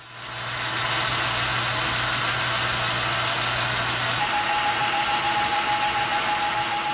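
A metal lathe turns a shaft for a Bridgeport mill power drawbar, producing a steady mechanical drone with a sustained high whine or squeal that grows more prominent midway, loud and continuous with no talking.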